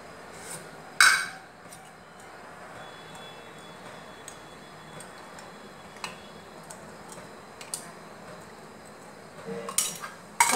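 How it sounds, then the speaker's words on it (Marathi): Oil goes into a heated kadhai while a metal spoon clinks against the pan in a home kitchen, with a few sharp, separate clinks and taps over quiet background. "तेल घालूया आपण."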